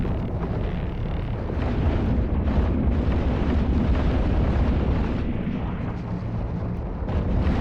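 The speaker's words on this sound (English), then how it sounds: "You can't be shooting underwater with the laser." A laser weapon fires continuously underwater in The Last Caretaker, a dense, roaring, muffled rumble that holds steady and loud for several seconds without pause.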